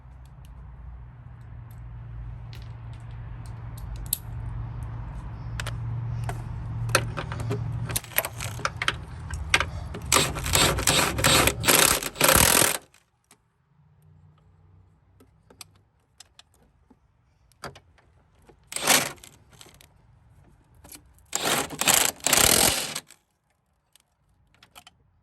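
Wrench work tightening 14 mm bolts on the upper driver-side transmission engine mount of a Honda Accord 2.4L: metallic clicks and ratcheting bursts, some rapid and clustered, separated by quiet pauses, with a low engine-bay hum early on.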